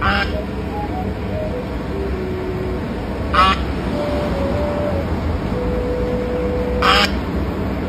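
A goose being carried as a gift lets out two short, loud honks a few seconds apart over a continuous low rumbling background.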